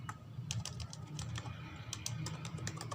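Rapid, uneven clicking of keys on a computer keyboard as a password is typed, close and fairly quiet, in short bursts with brief pauses and no voices.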